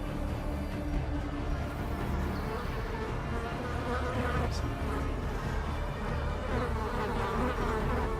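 Mosquito enemy in the video game Darkest Dungeon, heard as a constant insect buzz that drones at an even, moderately loud level throughout, with a faint brief chime in the middle.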